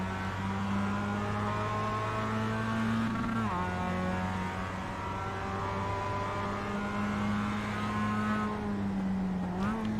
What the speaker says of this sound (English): Driving Mazda MX-5 official racing Tsukuba Circuit here on Iracing.